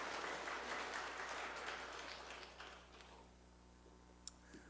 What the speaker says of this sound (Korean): 우리 수고하신 모든 분들에게는 좀 감사와 격려의 박수, 또 새롭게 섬기게 되실 분들도 응원의 박수 함께 하나님께 영광으로 함께 올려드리도록 하죠